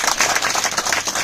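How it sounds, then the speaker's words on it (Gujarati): A seminar audience gives a burst of dense, steady clapping for Dr Sagar Joshi. The applause is loud and fills the whole brief moment. "ડોક્ટર સાગર જોશી સર માટે ફરી એકવાર તાળી થઈ જાય."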